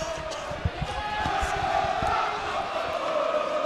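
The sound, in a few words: basketball crowd cheering for the Raiders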